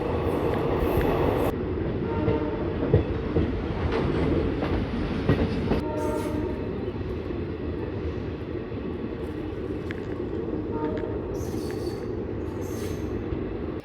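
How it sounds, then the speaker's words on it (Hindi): Passenger train on the Shri Ganganagar–Ambala route pulling into Barnala railway station, a loud continuous rumble of rolling wagons with wheel squeal and clatter, steady throughout and close by. "ट्रेन अपनी पहुंच रही है बरनाला रेलवे स्टेशन।"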